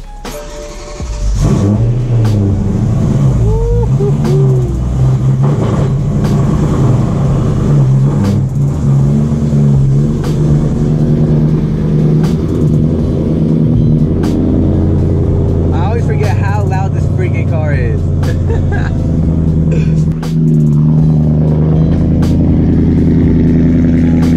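A straight-piped BMW E92 M3 engine cranks and catches, then settles into a loud, rumbling idle with small throttle blips and fluctuating exhaust drone, heard close up throughout.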